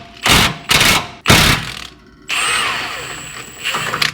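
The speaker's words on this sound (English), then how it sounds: "I'm going to grab my rattle gun with a 17mm socket" Rattle gun (impact wrench) fitted with a 17mm socket undoing a control arm bolt on a Suzuki Jimny, three loud hammering bursts in quick succession, then a sustained whining buzz as the bolt spins free.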